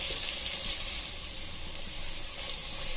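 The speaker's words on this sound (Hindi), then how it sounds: "मसाले को अच्छे से खुशबू आने तक भूनेंगे।" Steady, soft sizzling of a spice paste frying in a hot pan, a continuous crackling hiss with no talking, fairly quiet and close.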